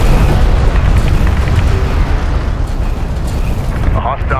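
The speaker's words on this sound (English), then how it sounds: "Hostile turret has been destroyed." A hostile turret explodes in the real-time strategy game Homeworld: Deserts of Kharak, a dense, loud rumbling boom that fills the whole stretch, with battle noise and unit radio chatter mixed in.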